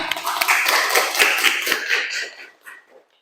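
Students in an Indonesian classroom clap their hands together, the sharp, close claps landing in a quick, slightly uneven rhythm before thinning out and fading to near silence.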